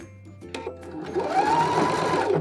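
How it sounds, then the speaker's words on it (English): Sewing machine running steadily along a blazer sleeve seam, stitching over a chalk line and blending into an earlier row of stitches; a few brief clicks come first, then a continuous close whirring hum that grows louder and holds. "we've stitched on that chalk line that we created and it's blending into the previous line of stitches"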